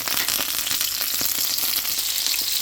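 Capers sizzle in a hot pan alongside caramelized onions for a sugo, a steady, close crackle with fine popping that carries on evenly without any talking.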